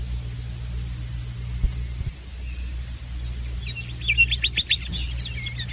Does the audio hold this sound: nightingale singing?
yes